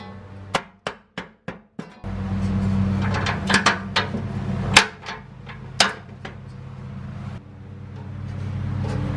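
A snowblower shave plate is tapped into a snug fit with sharp, close metallic knocks, first a quick run of five evenly spaced taps, then scattered louder blows over a low background hum.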